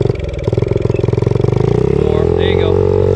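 A small 50cc mini bike engine revs up from rapid chugging pulses into a higher, steady buzzing whine, loud and close, with a voice speaking briefly over it.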